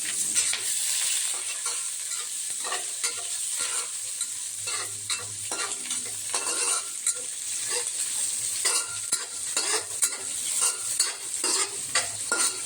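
Onions and ingredients splutter and crackle in a hot frying pan while being stirred, a continuous bright sizzle with frequent spatula scrapes and small pops, close and loud with no talking.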